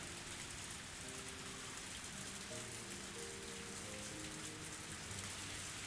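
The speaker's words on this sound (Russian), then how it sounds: "кстати, дождь. Oh no, дождь." Steady rain in the video game Higurashi no Naku Koro ni, a dense, even hiss of falling drops with faint low tones underneath, continuous and fairly quiet.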